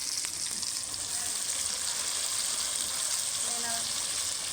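Chopped tomato hits hot oil in a frying pan, giving a loud, steady, close sizzle that fills the whole stretch without a break, with no talking over it.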